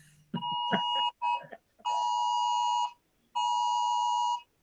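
Phone notification chime going off during a video call, a clean electronic tone sounding three times, first a short broken burst and then two longer sustained rings, fairly close and with no talk over it.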